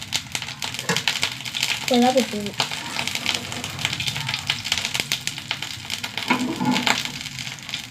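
Mustard seeds, a dried red chili and curry leaves sizzle in hot oil with a busy crackling hiss and sharp pops. A person talks over it now and then.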